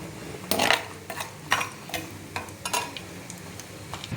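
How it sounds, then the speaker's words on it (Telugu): Caraway, cinnamon, clove and cardamom hit hot oil for tempering an egg tomato curry, giving a few sharp sizzling bursts followed by lighter crackles and a soft stirring against the pan. "మళ్ళీ ఆయిల్ పోసుకొని ఇవి దీంట్లో వేసుకుందాం పోపుకి"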